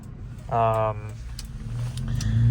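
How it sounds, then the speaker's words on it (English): A Chevrolet Monte Carlo pulls up with its engine rumbling low and building toward the end, a voice briefly speaking over it early on. "here comes my buddy with his Monte Carlo"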